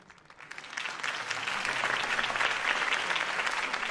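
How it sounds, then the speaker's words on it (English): Video game crowd applause, steady clapping swelling slightly and holding at a moderate, somewhat distant level. "could have heard that applause"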